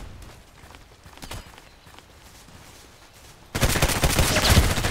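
Glock 17 DEVGRU pistol fired in semi-automatic in the Contract Wars shooter game: a few sharp, spaced shots over low background, then a loud, dense burst of gunfire near the end.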